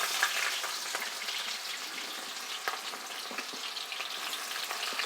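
Onions for goat head curry hit hot oil and fry with a steady, dense sizzle and crackle close up, fairly quiet, with no talk.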